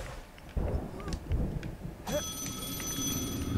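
A telephone rings in the Lego Harry Potter video game, a steady electronic ring that starts partway through over muffled game ambience and rumbling.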